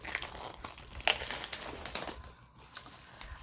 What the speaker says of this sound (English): So we'll start by opening up this plastic wrapper.